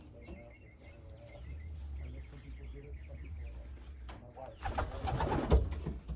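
Racing pigeons coo softly in a small loft, with repeated low, throaty calls and a few light chirps, building to a louder flurry of cooing and rustling at the end.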